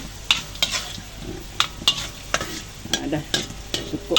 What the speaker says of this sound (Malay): kena goreng bawang